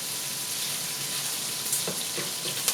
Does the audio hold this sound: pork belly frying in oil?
yes